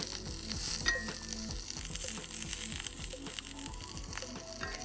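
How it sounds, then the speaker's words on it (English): Steady, quiet sizzling from broccoli frying in a skillet, with occasional soft clinks and scrapes as it is tossed; no talking. "Add the broccoli and spread it out in a single layer. Let it cook and also toss it around."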